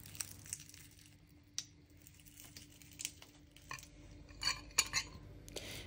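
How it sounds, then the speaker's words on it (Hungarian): Cheese and garlic bread mixture gets stirred in a bowl, with quiet, irregular scraping and clinking of a utensil against the bowl, growing busier toward the end, with no talking. "És akkor az egészet keverjük teljesen simává."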